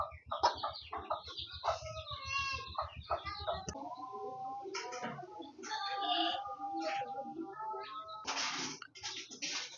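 Chickens cluck in a lively series of calls, with repeated near clucks and squawks overlapping one another and a rooster-like crow, close and fairly loud.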